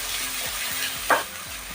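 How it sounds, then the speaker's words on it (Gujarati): Onion, capsicum and other vegetables sautéed in oil over full flame for vegetable Manchurian, a steady close sizzle with repeated stirring scrapes and one sharp clink. "ગેસની ફ્લેમ ફૂલ રાખી બધા જ શાકભાજીને તેલમાં સારી રીતે સાતળી લેશું."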